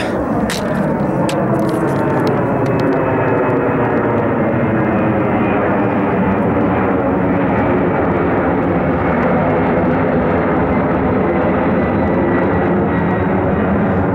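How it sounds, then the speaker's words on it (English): A low-flying airplane passes overhead near an airport at sunset, a loud, sustained roar of jet engine noise that fills the whole stretch without a break, close by and with no talking. "I got an airplane that's going to be coming over me in here"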